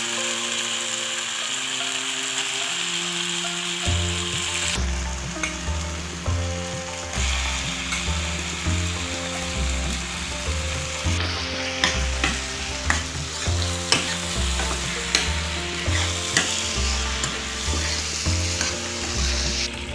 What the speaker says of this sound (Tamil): இப்போ இது கூட prawn ஆட் பண்ணிக்கலாம்.